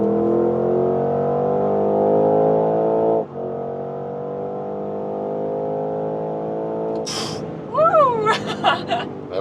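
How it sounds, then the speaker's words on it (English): A 4-liter V8 car accelerating hard from about 100 to 170 km/h, a loud, steady engine drone rising in pitch for several seconds, dipping briefly at a gear change, then giving way to sharper whines and bursts near the end. "even in that acceleration area, of course, this 4-liter V8 is doing a great job"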